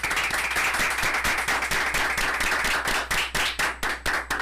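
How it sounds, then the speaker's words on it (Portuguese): An audience at a church podcast event claps in dense, continuous applause to welcome a guest, loud and sustained throughout with no voices over it. "Então vamos receber com muito aplauso e carinho o nosso convidado, Matheus Assunção."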